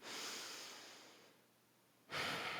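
A person takes a deep, airy breath in close to the microphone. The inhale is soft and sustained, eases off, then a louder rush of breath follows.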